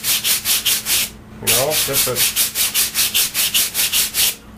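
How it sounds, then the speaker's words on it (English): Foam being smoothed with a sanding block to taper a model wing's trailing edge: rapid, rhythmic back-and-forth rasping strokes, close and loud, with a brief pause where someone speaks a few words. "a few seconds with the sanding block and you get a nice tapered trailing edge"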